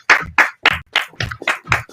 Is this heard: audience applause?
yes